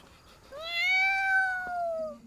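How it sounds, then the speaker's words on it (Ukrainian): A frightened cat in an animated film lets out a single close, drawn-out meow that swells and then slowly fades, with no other sound around it. "Зляканий кіт вистрибує з багажника, і його місце займає Сімілу"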